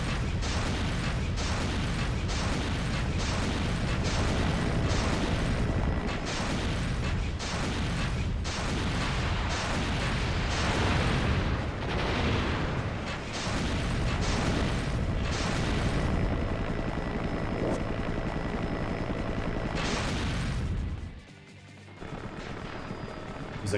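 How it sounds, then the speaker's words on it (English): Rapid video game gunfire with heavy booms and explosions, dense and continuous for about twenty seconds before cutting out near the end. "Try to hear the gunshot also from these guys"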